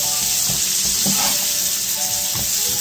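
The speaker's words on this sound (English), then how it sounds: "Now you don't want to over saute these. You want to keep it with a little bit of a crunch." Vegetables for Belgian chicken waterzooi sautéing in a pan, a loud hissing sizzle close by with a few stirring knocks and scrapes.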